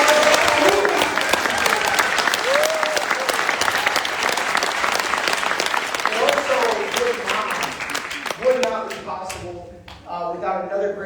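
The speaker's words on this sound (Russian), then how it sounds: "Давайте похлопаем человеку." Loud, sustained applause from a conference audience fills the room, a dense wash of clapping that thins out toward the end as a voice starts speaking.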